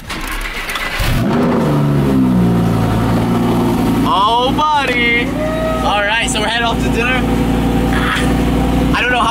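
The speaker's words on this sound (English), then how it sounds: "let's go ahead and start up the car" A Lamborghini engine cranks and catches, then settles into a deep, loud rumble with sharp revs climbing and falling. Voices talk over the running engine.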